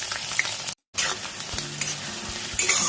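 Chopped onion frying in hot oil with whole spices, bay leaf and cumin for a chicken dish, a loud continuous sizzle with stirring scrapes, cut by one brief silence.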